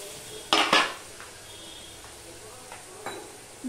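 Spice paste with turmeric fries in a pan for a fish dish, opening with a loud scraping stir and clink of the spatula, then settling into a quieter sizzle with one more brief scrape.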